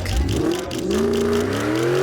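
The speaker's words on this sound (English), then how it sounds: "The man started the engine and drove away from the stadium with Nick." A car engine in a Rocket League game revs up as the car pulls away from a stadium, its tone climbing steadily and loudly as it accelerates.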